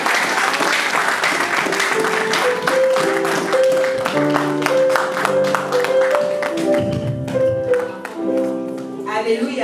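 Church congregation applauding together, a dense, steady wash of clapping that carries on throughout, mixed with sustained musical tones from instruments playing underneath.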